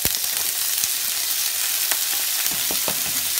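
Sweet peppers frying in hot oil for a spelt noodle stir fry, a steady bright sizzle with occasional pops and stirring knocks, close and continuous.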